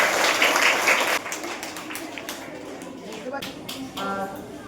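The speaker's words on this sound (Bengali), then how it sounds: "সবার জন্য একটা জোর করে হাততালি হয়ে যাবে" Audience applause at a school honours ceremony for scholarship exam students in Rajyadharpur, a broad wash of clapping that is loudest for the first second, then thins into scattered claps while a voice speaks over the hall.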